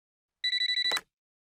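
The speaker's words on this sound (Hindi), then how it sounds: "अरे किसका फोन है?" A telephone gives a short electronic ring of about half a second, a rapid pulsing trill that ends with a click, set against silence.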